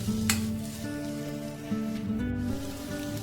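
Onions sautéing with salt in a pan, ahead of tomatoes going in for a restaurant-style kadai paneer: a steady close sizzle and frying crackle runs throughout, with a faint stirring scrape and a low background hum.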